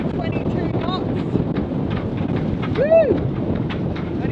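Strong wind of about 22 knots across a sailboat leaving a bay off Costa Rica, heard as steady, loud gusting roar and buffeting on the microphone, with a voice briefly calling out over it.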